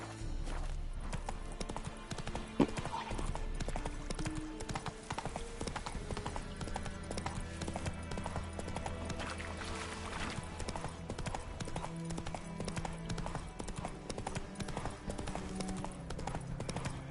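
In The Witcher 3, the horse Roach's hooves clip-clop at a fast, steady rhythm, and game music plays continuously underneath.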